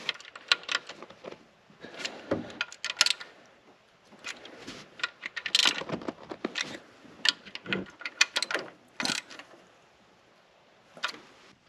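A ratchet snugs the fuel rail bolts on a 2015-2025 Ford Mustang 2.3L engine. Quick bursts of clicking come in irregular clusters, close and crisp, with pauses in between.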